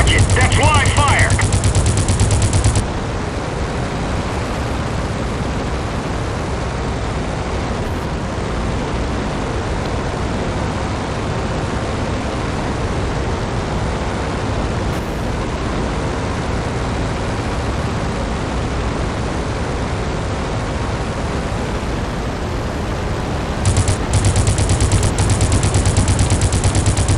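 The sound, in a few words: machine-gun fire in the video game Crimson Skies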